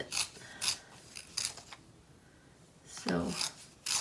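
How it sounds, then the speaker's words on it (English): A cheap sharpener rasps at a colour pencil in short, quiet scraping bursts with gaps between them, and a slightly longer grinding pass near the end. "sharpening these color pencils with this very cheap sharpeners"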